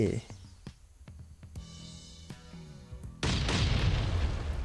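Explosions go off during a raid in the game Last Island of Survival. Several sharp booms and pops come first over quieter tones, then a loud sustained blast rumble follows, with a voice speaking alongside.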